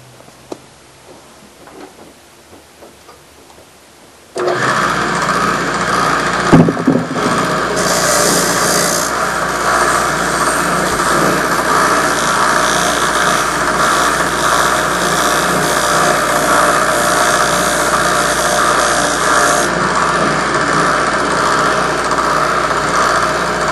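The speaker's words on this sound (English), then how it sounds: "We've secured the disc sander, or the belt sander, to the table better, so it's not going to walk on me." A belt sander fitted with 150 grit sandpaper, clamped to a table and working glass bottles, starts abruptly after a quiet moment and then runs loud and continuous with a harsh, steady grinding whine.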